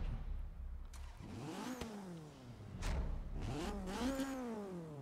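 A BMW E30 M3 in Forza Horizon 3 fires up, its four-cylinder cranking and catching, then revving sharply several times with rising and falling pitch, near and fairly loud.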